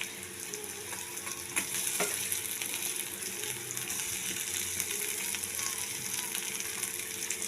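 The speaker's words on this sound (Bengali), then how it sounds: "এবার দিয়ে দিচ্ছি আলুগুলো একটু ভেঙে ভেঙে দিয়ে দিচ্ছি এর মধ্যে।" Broken potato pieces sizzling in hot oil with cumin powder in a pan, a continuous close crackle with occasional stirring clinks, alone without speech.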